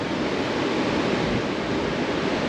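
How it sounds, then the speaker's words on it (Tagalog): A strong river current rushes steadily nearby, a loud, unbroken wash of water noise with some wind buffeting the microphone and no voices. "Lakas kasi ng agos, oh."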